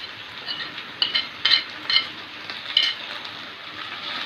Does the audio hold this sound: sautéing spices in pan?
yes